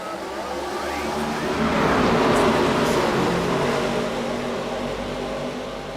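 ARCA Series race cars on a restart at Las Vegas, a continuous loud engine roar from the field that swells as cars run side by side down the front stretch, then eases slightly.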